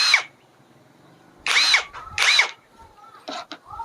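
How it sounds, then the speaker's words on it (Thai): An OSUKA OSID-520 cordless impact wrench whirs in short bursts, three or four quick runs separated by brief pauses, loud and close. "เป็นบล็อกไฟฟ้าไร้สาย"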